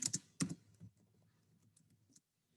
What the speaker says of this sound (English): So I'm going to type in Grace Hopper.